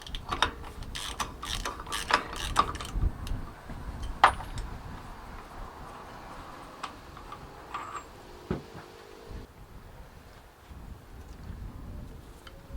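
A ratchet wrench with a 52mm socket works loose the drive flange nut on a Land Rover Discovery 1 front axle, giving quick bursts of close, crisp pawl clicking separated by pauses and occasional clinks, with no talking.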